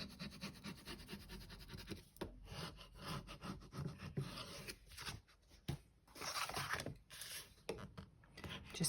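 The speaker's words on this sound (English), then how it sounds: "Just burnishing this to make sure it's nicely adhered." Close, soft scraping and rubbing strokes as a bone folder or similar tool burnishes a handmade journal cover to press the attached paper signatures down, in irregular bursts with short pauses.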